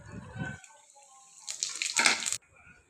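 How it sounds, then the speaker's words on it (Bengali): Chili, bay leaf and cumin hit hot oil in a wok and give a brief, bright, crackling sizzle that flares loudly for about a second, then cuts off. "তারপরে কড়াইয়ে দিয়ে দিলাম তেল গরম হয়ে গেলে দিয়ে দিলাম লঙ্কা, তেজপাতা"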